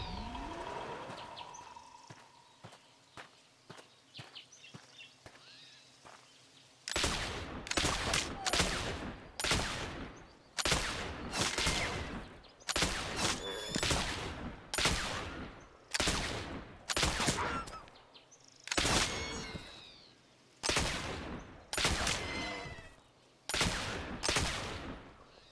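Gunshots while hunting in the Oregon Trail video game, a long series of sharp, loud retro shots fired at a steady pace in pairs and clusters, following a quieter stretch of faint chirps and tones.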